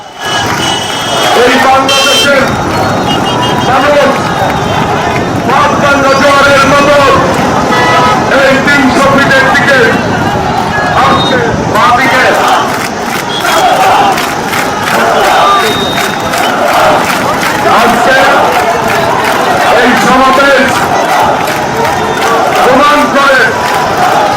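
Hundreds of people crowd a bridge in Bangladesh for a political roadshow, making a loud, dense, continuous roar of voices and shouts with scattered horn toots throughout.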